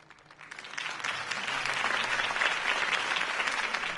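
Crowd applause from a Batman video game, cheering a Harvey Dent campaign speech, swelling quickly into a dense, sustained clapping roar that holds steady and loud throughout.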